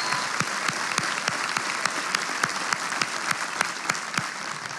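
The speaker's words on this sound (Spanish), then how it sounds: "un fuerte aplauso para ellos que hacen que sea posible" A live show audience claps steadily, a dense patter of hands with sharper individual claps popping through, sustained from start to finish.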